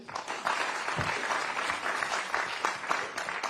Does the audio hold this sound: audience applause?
yes